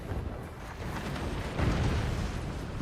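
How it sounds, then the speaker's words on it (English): Mortar shells firing and exploding in the Forts real-time strategy game, a continuous low rumbling barrage that swells in loudness midway, dense and boomy without voices. "mortars will finish this out for us"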